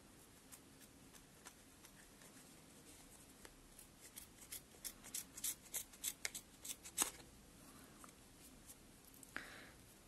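Scissors snip yarn for amigurumi doll hair, a run of about a dozen quick, close crisp cuts in a quiet room, followed by a faint rustle.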